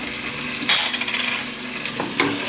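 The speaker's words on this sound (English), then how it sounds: "I'm going to put the sauce in" Sauce poured into a hot pan sizzles and fries steadily, with a few utensil clinks and scrapes as it is stirred, close and fairly loud with no talking.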